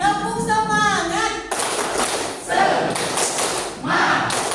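A school classroom does a rhythmic spirit clap, short sets of hand claps and thuds alternating with the class chanting together in unison.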